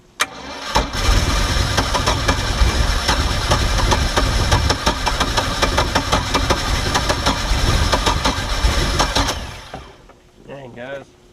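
A Mercury MerCruiser 3.0 engine in a Stingray boat, revived after sitting nine years with a new fuel pump and carburetor, runs loud and steady with a rough, uneven idle, then cuts out near the end, followed by a brief voice.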